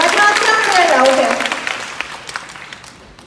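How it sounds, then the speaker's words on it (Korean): Audience applause at a Secret Direct Korea seminar at KINTEX in Ilsan starts loud beneath a speaking voice, then thins out and fades into scattered claps. "촬영 격려에 큰 박수 부탁드리겠습니다"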